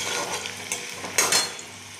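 Chopped ginger frying in ghee for khichuri, a close sizzle with brief stirring scrapes and a short louder burst partway through.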